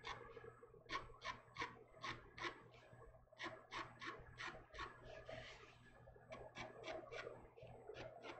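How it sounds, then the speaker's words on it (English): Repeated rasping scrapes across the edge of a gryphon illustration, about a dozen rhythmic strokes close up, quiet with a faint steady hum underneath and no talk. "Need to just do a few scrapes on the edge."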